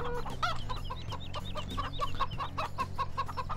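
Chickens clucking in the Farming Simulator 2017 video game, a rapid run of close, repeated clucks over a low background hum, with no talk.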